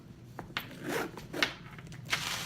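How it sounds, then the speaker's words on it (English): A Gucci GG Marmont matelassé shoulder bag zipper being drawn open in a few short, quick pulls, close and crisp, with a light rustle between strokes. "There's nothing in it right now, but it is a very smooth zipper"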